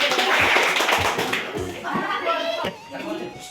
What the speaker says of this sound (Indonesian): Ayo tepuk tangan buat Bapak.